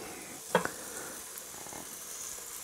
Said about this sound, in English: we're just going to let it sizzle